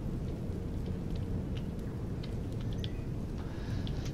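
Rain falls in the video game Empyrion, a dense, continuous wash of heavy rainfall with low rumbling beneath and faint scattered drips, steady and fairly loud with no voices.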